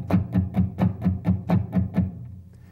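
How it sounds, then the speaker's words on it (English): Nine evenly spaced plucked guitar notes in a steady triplet pulse, clean and close, each ringing briefly before the next, then fading out. "An eighth note triplets sound like this."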